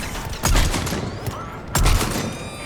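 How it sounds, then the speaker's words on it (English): Sniper rifle fire in the Mass Effect 3 video game, two heavy booming shots about a second apart with a sharp crack and rumbling tail, over steady game ambience. "Snipers fire well."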